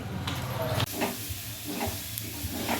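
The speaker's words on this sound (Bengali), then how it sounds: "আজকে দুপুরে এইটা রান্না হচ্ছে এখন লাউ লাউ দিয়ে মুগ ডাল দিয়ে" Bottle gourd with mung dal sizzles and hisses steadily in a pan, with scattered stirring scrapes and brief clatters over the continuous frying noise.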